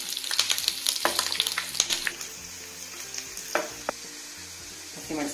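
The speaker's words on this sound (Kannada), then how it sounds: "ಬೆಳ್ಳುಳ್ಳಿ ಹಾಕ್ಕೊಳ್ಳೋಣ, ಲೋ ಫ್ಲೇಮಲ್ಲಿ ಇಟ್ಕೊಳ್ಳಿ ಬೆಳ್ಳುಳ್ಳಿ ಸಿಡಿಯತ್ತೆ" Garlic and ginger fry in oil over a low flame for green chilli chutney, a soft continuous sizzle broken by scattered crackles and pops and occasional stirring scrapes, heard alone at a moderate distance.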